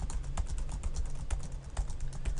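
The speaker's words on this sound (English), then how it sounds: "You can probably hear my keyboard" Fast, irregular clatter of typing on a computer keyboard during a PHP coding session, crisp and close-miked, a steady run of key clicks with no one talking.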